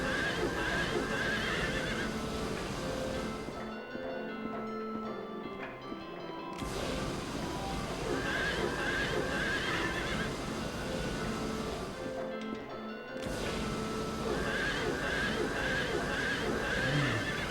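A horse whinnies repeatedly in the PS2 video game Silent Hill 3, long shrill neighs returning in cycles with brief pauses between them, over a continuous dense game soundscape.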